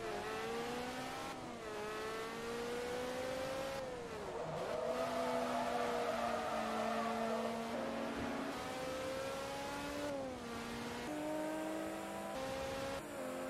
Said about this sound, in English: That's a beautiful sound that this Ferrari is making.